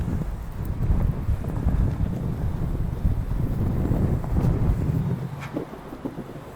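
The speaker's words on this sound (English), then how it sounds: "It's really windy here today." Strong wind buffets the microphone during a Meepo V5 electric skateboard ride, a steady low rumble and gusty roar, close and continuous, easing slightly near the end.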